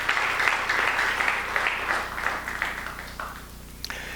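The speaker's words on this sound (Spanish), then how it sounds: "Si estás conmigo, da un aplauso al Señor." Sustained applause from a church congregation during a sermon, steady and fairly loud throughout, tapering slightly toward the end.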